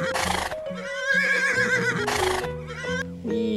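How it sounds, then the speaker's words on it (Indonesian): A toy racing horse gives a loud electronic neighing and whinnying with clip-clop hoofbeats, playing steadily and close by against a tinny synthesized backing. "ternyata ada kuda balap di sini teman-teman"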